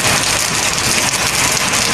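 Heavy rain pours down in a loud, dense, unbroken roar, drowning out everything else.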